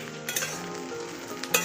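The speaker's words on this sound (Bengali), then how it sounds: "সয়াবিনটাকে ভেজে নিতে হবে ভালো করে" Soybean chunks frying in a pan, a steady close sizzle with a few light scrapes and clinks from stirring, short and without talk.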